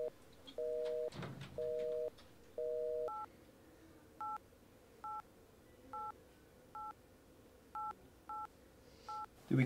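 A telephone is dialed for a phone call: three longer tones, then a quick, evenly spaced run of short keypad beeps, clean and close.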